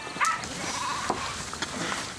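Lamb bleating while being castrated on a sheep farm, a short faint cry near the start amid quiet outdoor background, with little else heard.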